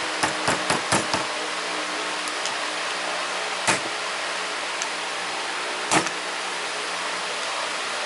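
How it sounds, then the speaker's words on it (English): A hammer taps a junk gear on a split VW engine case, several quick metallic knocks close together at the start and then two isolated knocks later, set against a quiet background with no talking. "Let's try a little love tap on the junk gear."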